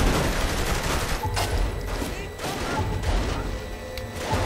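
A 12-gauge shotgun fires in the game Saints Row The Third, heard as a run of loud, dense blasts and crashes packed closely together over continuous game noise.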